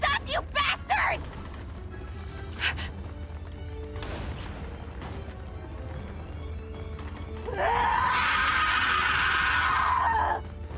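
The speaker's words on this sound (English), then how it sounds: "They really like that scream." A long, loud, high scream rings out in the war strategy game Valkyria Chronicles 4, following a burst of game sound effects and over a low rumbling background.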